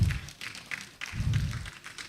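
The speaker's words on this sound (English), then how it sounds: "Please give him a round of applause." Scattered applause from a dinner audience at an engineers' awards night, close and moderately loud, coming in uneven bursts of claps over a couple of seconds.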